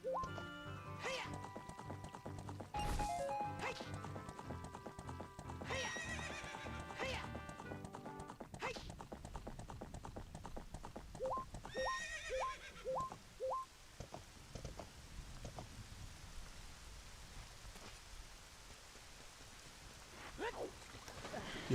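Epona, the horse from the video game Ocarina of Time, neighs and gallops amid game music, with repeated hoofbeat clip-clops and a whinny standing out over a busy, layered soundtrack.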